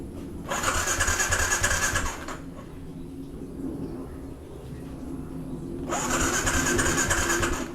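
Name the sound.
motorcycle engine cranking but failing to start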